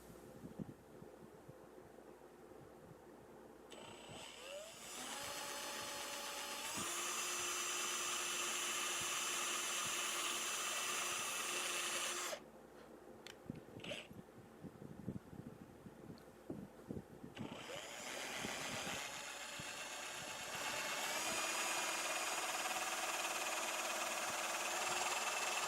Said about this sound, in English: So now I just need to drill for the jack plate.